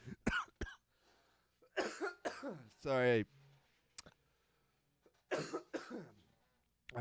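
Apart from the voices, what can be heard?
coughing from poor air quality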